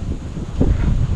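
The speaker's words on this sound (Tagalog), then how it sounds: "Lakas ng hangin, no?" Strong wind buffets the microphone in a continuous low rumble, gusting harder partway through.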